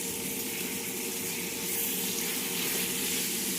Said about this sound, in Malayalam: വെണ്ടയ്ക്ക വെളിച്ചെണ്ണയിലൊന്ന് വറുത്തെടുക്കാം